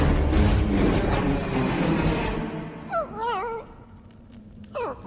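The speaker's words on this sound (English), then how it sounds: "Yeah, it's growling. It's giving a menacing sound." A creature growls from a pipe in a Mario video game, heard as several wavering, whiny dog-like vocal calls after a stretch of loud game noise and talk.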